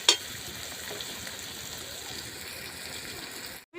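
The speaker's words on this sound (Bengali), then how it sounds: "পেঁয়াজটাকে আমি খুব ভালো করে ভেজে নেব।" Chopped onion fries in a pan with a steady, close sizzle that holds evenly throughout before stopping abruptly at the end; no one talks.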